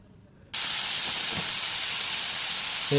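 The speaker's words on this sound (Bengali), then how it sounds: "পুরানো তেল গ্যাস বাইর করে দিলাম, কেটে দিলাম, গ্যাস বেরোবো।" Refrigerant gas hissing out of an air conditioner line during a compressor replacement, a sudden loud, steady close hiss that starts abruptly and holds without a break.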